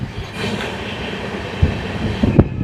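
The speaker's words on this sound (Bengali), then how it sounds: "এই ট্রেন দুর্গাপুর পর্যন্ত পৌঁছতে সময় না নেবে প্রায় আড়াই ঘন্টা" Passenger train on the line through Bandel and Bardhaman toward Durgapur, West Bengal, giving a steady close rumble of wheels on rails, with heavy clunks near the end as the carriages pass over joints.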